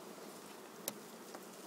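Honey bees around an open hive during the addition of a super, a faint, steady, soft buzzing with a brief nearer pass of a single bee.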